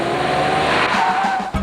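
A Toyota Solara braking hard from 80 with ABS, a loud continuous tire squeal and road roar that holds steady, then dips and ends abruptly near the close.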